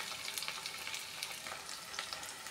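Two spoonfuls of coconut paste sautéing in a pan, a continuous close crackling sizzle with small pops and stirring scrapes throughout.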